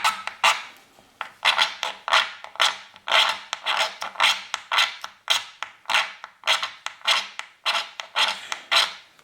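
A magnesium fire starter rod scraped with a blade in repeated quick rasping strokes, about two per second, close and loud with short gaps between each stroke, no talking.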